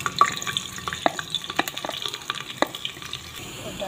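Garlic sizzles and crackles in hot oil, with a steady frying hiss broken by sharp pops and occasional stirring scrapes, heard close up.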